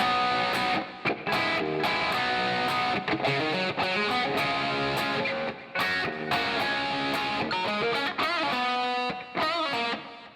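A loud distorted electric guitar riff from a song with string bends and quick pull-offs, played alone in choppy phrases with short gaps.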